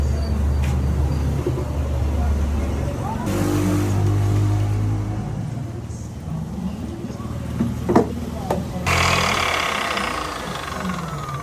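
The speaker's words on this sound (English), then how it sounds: "The miter saw is a very powerful machine" A miter saw makes a straight cut through wood for a guitar neck, its motor spinning up into a loud whine for a few seconds, then dropping away and rising again in a second burst near the end.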